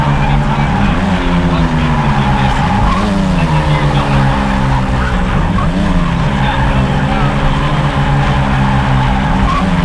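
A car engine roars steadily while tires squeal and skid continuously, the pitch rising and falling as the car slides, loud and close.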